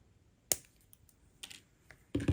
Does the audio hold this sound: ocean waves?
no